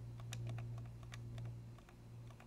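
Soft, muted clicks from the right button of an Elecom M-DT2URBK mouse fitted with Kailh silent switches, several quiet ticks spaced irregularly over a steady low hum, close up with no talking.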